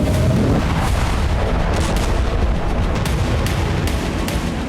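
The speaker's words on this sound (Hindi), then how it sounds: "ताबड़तोड़ रॉकेट हमले को अंजाम दे रहा है" Hezbollah rocket attack explosions in northern Israel: a loud, dense, continuous roar of rumbling blasts and booms, with repeated sharper cracks layered on top.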